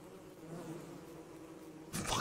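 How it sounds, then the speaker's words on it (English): Bees in Don't Starve Together: a low, steady swarming drone runs through the whole stretch, with a louder, brighter burst near the end as the buzzing closes in. "there's so many bees"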